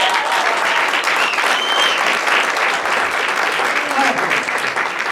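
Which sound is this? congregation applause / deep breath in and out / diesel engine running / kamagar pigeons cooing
congregation applause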